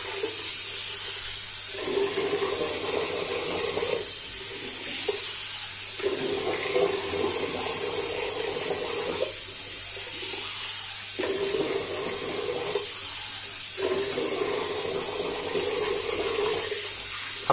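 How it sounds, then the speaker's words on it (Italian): Tap water runs into a bathroom sink during a rinse after a wet shave, a loud steady splashing flow broken by short pauses where hands cup and splash water, no talking. "Abbondante risciacquo."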